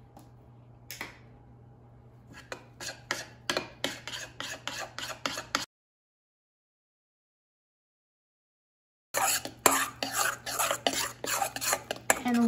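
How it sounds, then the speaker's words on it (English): A utensil stirs almond flour apple cake batter in a bowl with rapid, close clinks and scrapes. A few seconds of complete silence break the stirring before it resumes. "And now I'm going to mix everything together."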